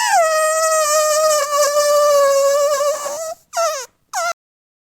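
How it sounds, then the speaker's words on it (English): A zebra calls loudly and close by, holding one long, strained, tonal bray for about three seconds before breaking into two short, sharp yelps, with no voices present. "Zebra makes the sound."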